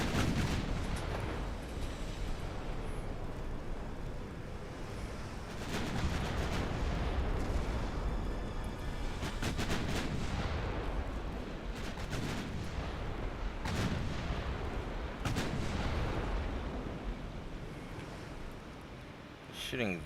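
Naval artillery fire in the warship battle game Ultimate Admiral Dreadnoughts: a dense, continuous barrage of booming gunshots and explosions, loud and overlapping throughout, with a voice heard over the battle.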